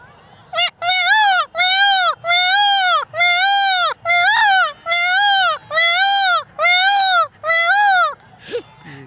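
A man imitates a peacock call, giving about nine loud, nasal, strained wails in a regular rhythm, each lasting around half a second, close to the listener.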